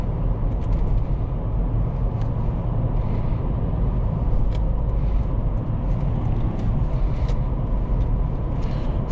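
Inside a 2008 Toyota Land Cruiser VX with a petrol V8 cruising on a freeway: a steady, low road and engine drone with tyre rumble, constant and fairly loud throughout, with no talking.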